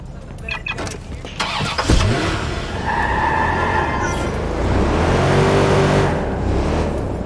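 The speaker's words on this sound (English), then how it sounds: "Let me get the car." A car in the video game Watch Dogs 2 starts up with a sharp ignition whine, then its engine hums and rises as it pulls away, loud and close.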